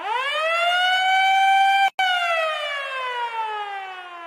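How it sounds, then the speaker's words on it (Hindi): A loud, steady wailing siren holds a rising then sustained tone, briefly cut off, then slowly falls in pitch as it winds down. "वो सायरन जो शायद कोई भी सेलर अपनी सर्विस में सुनना ही नहीं चाहता।"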